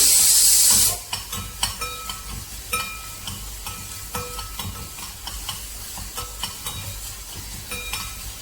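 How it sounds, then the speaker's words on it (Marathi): Chopped onion drops into hot oil in a pan with a loud initial hiss, then settles into a steady close sizzle while a spoon stirs it, with scraping clinks against the pan at irregular intervals. "कांदा चांगला हलवून घेऊया."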